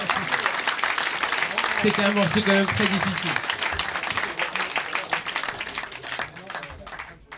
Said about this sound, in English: encore des applaudissements